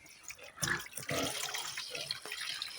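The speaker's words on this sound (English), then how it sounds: "we're going to pour about 1 liter in this mixture, 1 liter in that mixture" Liquid feed-efficiency syrup being poured into a brewery spent grain feed mixture, a soft splashing, gurgling trickle heard at close range with quiet handling noise.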